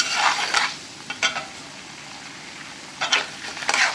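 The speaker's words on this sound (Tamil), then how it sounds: "நல்லா பொரியும் போதே பார்த்தீங்கன்னாக்கா நம்ம முந்திரி பருப்பு போட்டு வேண்டியதுதான்" Cashew nuts fry in ghee with a soft, steady sizzle, punctuated by four or five brief scraping stirs of a spoon in the pan.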